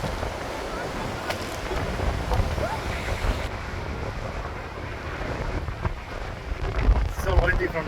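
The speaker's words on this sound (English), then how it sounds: "So windy from the waterfall" Strong gusting wind roars near the base of Takakkaw Falls, a tall waterfall, buffeting the microphone in a continuous rushing noise while a person talks over it.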